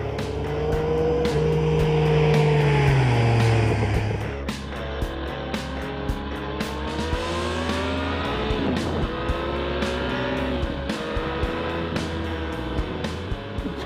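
A 2015 Yamaha MT-09 Tracer sport motorcycle revs up to a high whine under acceleration, then drops under braking and settles into uneven engine tones with sharp clicks and shifts, close and loud.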